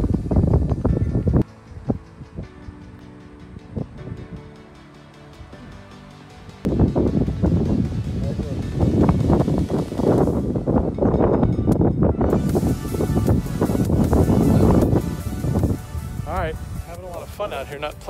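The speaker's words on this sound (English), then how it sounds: "it was an extremely windy and challenging day out there." Strong gusty wind buffets the microphone outdoors on a golf course in Muscat, Oman, rumbling heavily throughout while a person talks over it.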